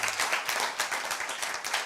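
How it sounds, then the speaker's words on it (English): A crowd applauds steadily, many hands clapping together in a dense, continuous burst. "Let's clap for him once more again."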